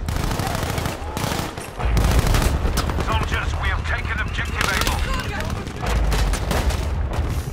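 Loud, close gunfire from a teammate in Battlefield V multiplayer rattles in sustained bursts, with heavier booming shots mixed in and a voice speaking over the shooting.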